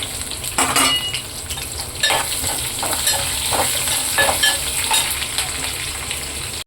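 Curry leaves, dried red chillies and onions hit hot tempering oil with pounded garlic, giving a steady loud sizzle with scraping stirs and light utensil clinks close by throughout.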